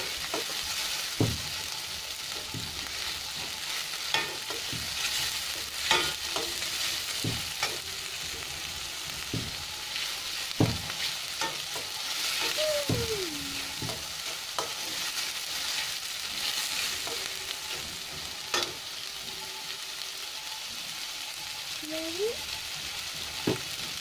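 Ground spices sauté in oil in a pan, giving a long, steady sizzle over nearly half a minute, with intermittent scraping knocks from stirring and a faint voice briefly in the background.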